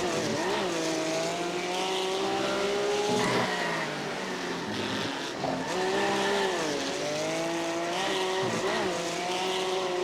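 A GT race car in the iRacing sim roars continuously at high revs, its pitch rising and falling through gear changes, with intermittent tire squeal through corners, loud and steady throughout.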